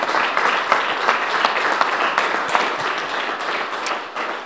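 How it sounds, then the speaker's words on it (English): An audience at a community grants ceremony bursts into a round of applause, loud, dense clapping that continues steadily before easing off near the end. "how about a nice round of applause for Mayor and Chancellor McCormick"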